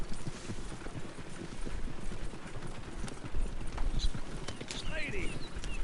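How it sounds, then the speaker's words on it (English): Rapid clip-clopping hooves gallop steadily in Red Dead Redemption 2 beneath a voice talking, with a brief horse whinny and some game-like ambient sounds. "See how fast these horses can actually go."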